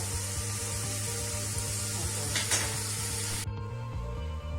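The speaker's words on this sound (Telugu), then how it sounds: "ఉల్లిపాయ మగ్గేలోపు మనం వంకాయలు కూడా ఒకవైపును ఫ్రై చేసుకోవాలి" Onion and brinjal fry in a pan for a masala brinjal curry, a steady close sizzle that holds throughout and then drops away near the end.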